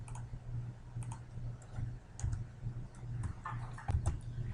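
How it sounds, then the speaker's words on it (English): Quiet, irregular clicking of keys on a computer keyboard as answers are typed in, small scattered taps over a low background hum. "Let me go ahead and type all this in."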